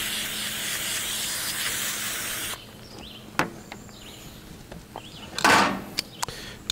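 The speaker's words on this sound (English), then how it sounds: "Little cooking spray" Cooking spray hissing from a can onto a wadded kitchen towel for oiling a grill, a steady broad hiss of a couple of seconds, followed by quieter handling clicks and a short brushing swipe.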